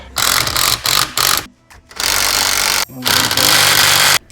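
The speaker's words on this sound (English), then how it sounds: "We're going to go ahead and tighten our spring compressors" Spring compressors being tightened on the coilover spring of a 2019 Corolla Hatchback, loud close bursts of a power tool's rattling whir, repeated in several spurts with short pauses between.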